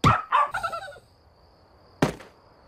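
Dog barking in the German-dubbed Simpsons cartoon, two quick close barks followed by a short whimpering trail, then a single sharp bark after a pause.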